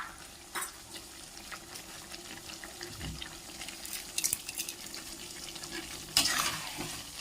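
Soft sizzling of onions and chili frying in a pan, with occasional stirring scrapes and clinks, steady and fairly quiet throughout.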